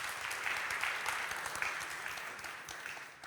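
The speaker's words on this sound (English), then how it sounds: "Let's give them a round of applause." A conference audience at an opening keynote claps together in a sustained, fairly soft burst of applause that fades gradually toward the end, with no talking over it.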